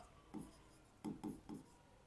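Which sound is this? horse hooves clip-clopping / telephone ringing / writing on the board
writing on the board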